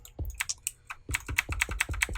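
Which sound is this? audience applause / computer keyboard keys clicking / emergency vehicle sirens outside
computer keyboard keys clicking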